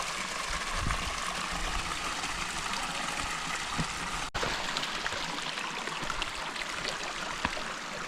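Steady rushing of a flowing stream at Qurai, Oman, an even watery wash that continues without pause, with occasional small splashes.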